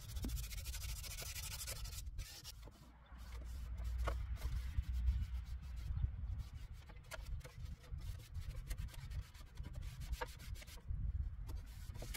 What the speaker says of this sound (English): I also had to do a lot of hand sanding as my sander couldn't get into a lot of the cracks